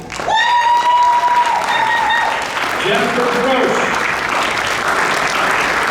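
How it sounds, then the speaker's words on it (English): Audience applause fills an inauguration ceremony in Derby, a steady dense wash of clapping lasting throughout, with a voice speaking over the start. "please give them a warm round of applause"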